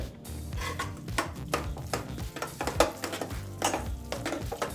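Cooked moong dal being mashed inside a pressure cooker, giving a steady run of repeated metal scraping and soft clacking strokes, close and fairly loud, with no talk.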